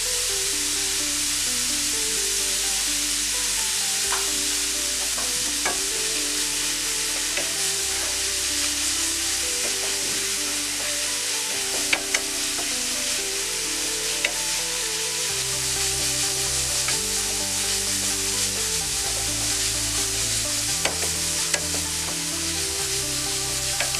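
Onions with a little salt frying in a pan for Thalassery chicken pathiri, a continuous loud close sizzle with occasional stirring scrapes over about twenty seconds and no talk.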